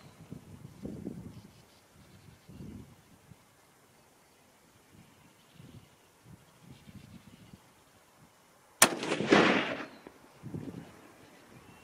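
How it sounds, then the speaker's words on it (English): A .243 Winchester rifle with a lightweight tapered barrel fires one sharp, loud shot partway through, after a stretch of quiet outdoor ambience with faint low rumbles, and the blast rings out briefly before fading. "Let's just go ahead and shoot."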